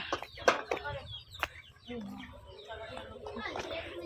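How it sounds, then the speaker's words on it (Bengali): Chickens cluck nearby in short, irregular bursts of calls scattered across the moment, with a few sharp, louder squawks amid quieter background sounds. "মুরগিগুলোর ভয় নাই, উৎপাত মুরগির।"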